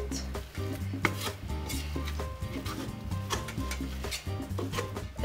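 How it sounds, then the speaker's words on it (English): Chili con carne with browning meat stirred in a pot, with repeated close scraping and rubbing strokes over a continuous low sizzle, steady and moderately loud, no speech. "We gotta stir it."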